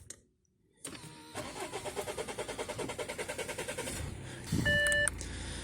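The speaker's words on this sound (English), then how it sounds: "So turn on your car." An Audi A6 C7's starter cranks in a steady, rapid rhythm for about three seconds after a fuel filter replacement, then the engine catches and settles into a smooth idle while a short electronic chime sounds nearby.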